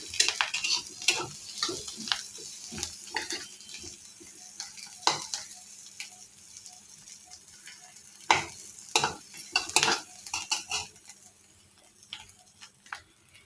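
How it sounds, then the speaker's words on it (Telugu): Onions and curry leaves fry in hot oil for egg fried rice, giving a steady close sizzle broken by clicking stirs against the pan. "ఆ ఆయిల్లోనే ఉల్లిపాయలు కరివేపాకు వేసుకోవాలి. వేసుకొని 1 నిమిషం పాటు వేపుకోవాలి."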